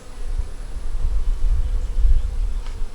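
Honey bees drone with a low, continuous buzz at an open beehive, close and steady for the whole stretch with no talking.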